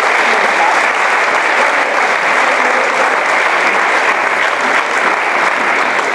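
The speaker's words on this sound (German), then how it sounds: "Du hast bitte einen Applaus für Angelika." Dense, sustained applause from a comedy show audience, loud and even, filling the room without a break for several seconds.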